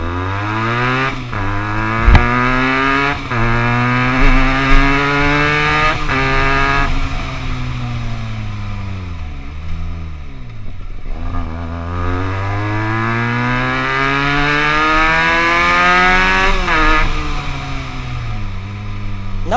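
A Benelli TNT300 motorcycle rides past up close, its engine note loud and steady, rising and falling through repeated revs and gear changes with a sweeping dip midway as it passes, no voices over it.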